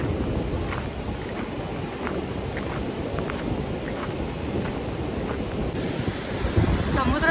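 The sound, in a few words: sea waves at Ladghar beach, Dapoli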